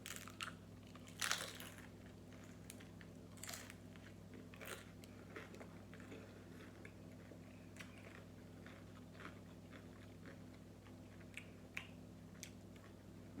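Crunchy bites into hard-fried homemade taco shells, sharp crackling bursts scattered over about thirteen seconds, close up and fairly quiet with no talking.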